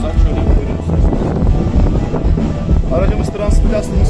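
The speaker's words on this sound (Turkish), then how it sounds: "Tabii rüzgar da var bu arada." Steady wind rushes and buffets around a parked Ford Nugget Plus camper van built on a Transit Custom, a continuous loud roar that carries under a person talking throughout.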